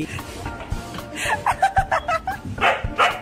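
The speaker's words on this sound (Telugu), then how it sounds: "హస్కీ ఊరికి అరుస్తుందని" A husky gives a quick series of yelping, howl-like barks, rhythmic and fairly close, with some laughter-like vocal sounds mixed in.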